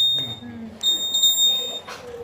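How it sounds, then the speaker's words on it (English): A high electronic beep sounds briefly, then again as a longer steady tone lasting about a second, with a quiet voice faintly underneath. "But if you touch the wire, it will beep."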